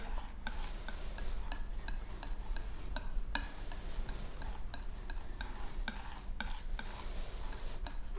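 Palette knife working oil paint mixed with Naples yellow on a palette, giving a steady run of soft scraping and tapping strokes, close and continuous with no voices.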